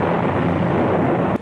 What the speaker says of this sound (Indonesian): Petir yang kemudian meledak seolah ikut menentukan warna persoalan yang sedang terjadi